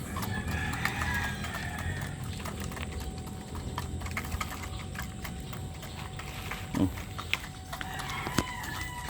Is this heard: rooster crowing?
yes